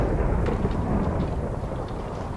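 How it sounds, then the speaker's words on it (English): Deep, rumbling thunder from a lightning strike in a Minecraft survival games match rolls on as a broad, sustained low roar, steady and moderately loud with no talk over it. "When the lightning strikes, does it strike one person at a time or all persons at a time?"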